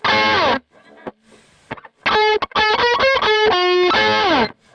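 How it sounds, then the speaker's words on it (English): Distorted electric guitar double stops played in short bursts, two notes ringing together with a bend and slide, loud and close, separated by brief gaps and quiet handling noise. "you can hear the double stop"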